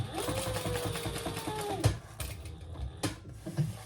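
A sewing machine stitches a fabric baby sling in quick, steady bursts, close and fairly loud, with brief pauses between runs of stitching.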